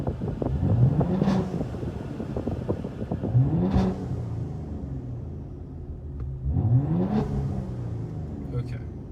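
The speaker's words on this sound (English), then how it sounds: "revving with the all windows closed" Car fitted with aFe equal length catless downpipes, revved three times from inside with all windows closed: deep booming swells that climb and fall back to a low idle rumble between blips.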